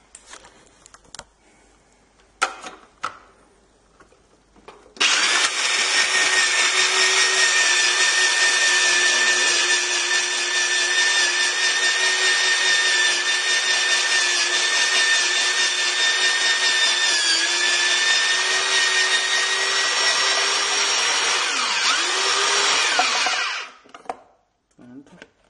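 A Tristar MX-4824 electric salad maker chops almonds with a loud, steady motor whir that runs unbroken for about eighteen seconds, after a few faint handling clicks, then stops abruptly.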